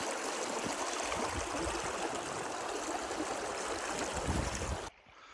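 A wilderness river rushes in a loud, steady broadband wash close by, continuous for about five seconds before cutting abruptly to quieter background.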